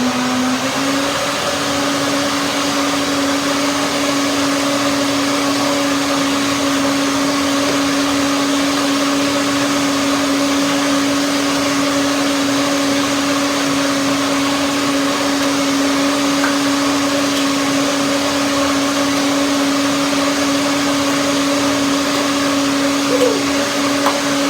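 A countertop blender runs continuously, whirring a garlic tahini dressing thinned with extra water: a steady, loud motor drone with a constant pitched whine, close and unbroken for the whole stretch.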